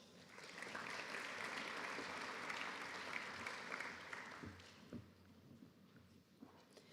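Audience applause at a graduation ceremony, a dense sustained clapping from a large crowd at a distance that fades away after several seconds, followed by a few isolated claps and faint room noise.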